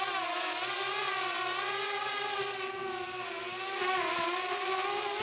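A RoboCat 270 drone hovers close by with a steady, high-pitched rotor whir and a sustained tonal whine that wavers slightly in pitch, continuous and fairly loud.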